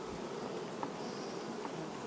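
Honey bees of the Carnica and Buckfast strains swarm around an open hive, producing a steady, dense hum at moderate level with no talking.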